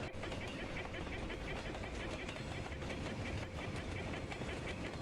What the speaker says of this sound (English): Does the train still go?